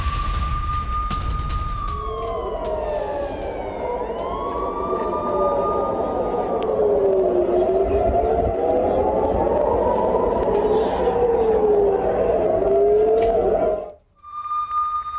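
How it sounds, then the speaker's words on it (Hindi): Air raid sirens wail near the Gaza border around Kissufim, Israel. Several rising and falling tones overlap loudly for about fourteen seconds, then briefly cut out before resuming. "गाजा बॉर्डर के पास बज रहे हैं सायरन।"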